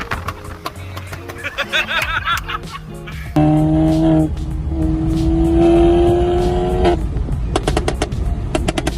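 A Volkswagen Mk7 GTI with an EQT tune idles and revs, its exhaust firing loud, rapid pops and crackles in bursts, then holds a steady rising engine drone before more sharp popping, all close to the car.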